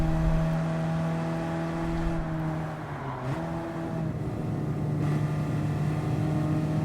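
A kei car engine in Gran Turismo 7 on the Nürburgring holds a steady droning tone, dips briefly around a shift, then climbs again under acceleration. The sound is close and continuous, with no talk.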